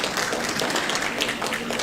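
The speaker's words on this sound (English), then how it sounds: "Give yourselves a round of applause." Conference audience of small business owners in Jamaica applauding, a dense steady wash of many hands clapping throughout, fairly loud and continuous with no speech over it.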